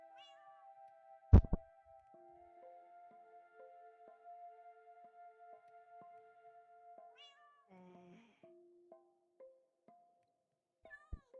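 A Minecraft cat meows in the game, several short meows spread over the stretch, heard over steady in-game music tones and a sudden loud thump near the start.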